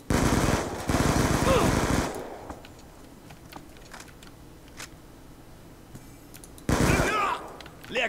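Loud bursts of rapid machine gun fire in Black Ops 2, two long volleys at the start and another near the end, with quieter clicks between.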